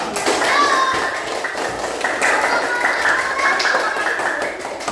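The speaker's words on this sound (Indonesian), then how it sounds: "Tepuk tangan untuk kita semua." Second-grade pupils in an Indonesian classroom clap together, a loud, dense run of hand claps mixed with children's voices and chatter throughout.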